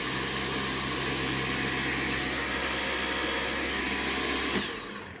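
A Dyson V8 Absolute cordless vacuum cleaner runs steadily at close range, a loud, even motor whine with no pulsing, then cuts off near the end.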